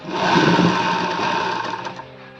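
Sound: sewing machine stitching elastic onto fabric

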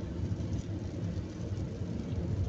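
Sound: rain on a quiet morning road

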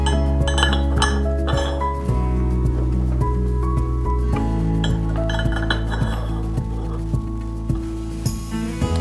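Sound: clips inserted into glass balustrade channel

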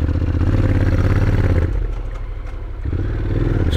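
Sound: motorcycle engine on a mountain road in Italy

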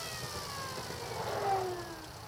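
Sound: vehicle motor under slow throttle

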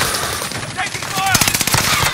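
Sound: gunfire in the video game Call of Duty: Modern Warfare

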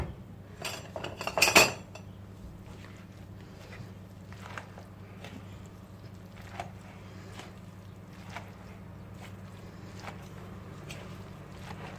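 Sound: mixing dried tomato salad in a bowl

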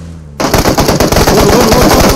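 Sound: gunfire in the video game PUBG Mobile

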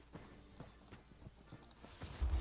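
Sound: horse hoofbeats in a video game

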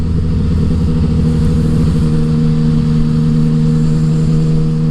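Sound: Tracer 900 motorcycle accelerating with Healtech quick shifter gear changes

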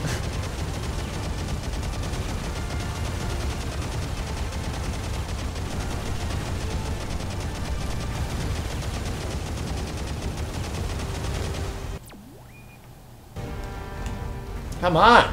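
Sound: gunfire in the video game Gundam Crossfire

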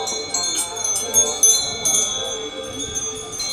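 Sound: bell ringing at a Buddhist temple stupa

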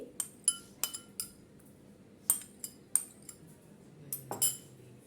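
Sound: spoon mixing custard, noodles and sago in a bowl

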